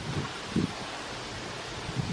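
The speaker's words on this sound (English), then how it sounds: "That wind's picking up now." Wind blows steadily outdoors beside a Subaru camper build, a broad rushing buffet against the microphone with a few low gusty thumps.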